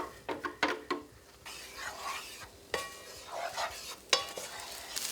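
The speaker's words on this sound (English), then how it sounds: "we're going to add our cooked onions and garlic back to the pan" Ground turkey cooking in a pan as cooked onions and garlic are added back, a soft sizzle under several clattering scrapes and knocks of a spoon against the pan at irregular intervals.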